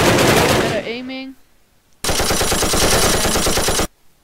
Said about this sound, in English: These are a whole different kinds of machine guns, so this is very fast.